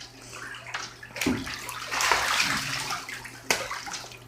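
A pet goose splashes water in a bathtub: sloshing and splattering bursts with a sharp splash near the end, close by, with a voice briefly under it.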